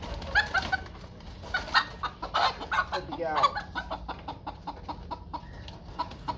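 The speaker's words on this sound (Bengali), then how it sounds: "এটা তো হচ্ছে ফাইটার মোরগ" A fighter rooster clucks and calls in short, irregular bursts close by, with a voice calling to it over the birds.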